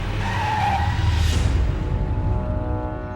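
A car brakes hard to a stop, tires skidding and squealing in a loud, sustained screech under engine rumble, fading away toward the end.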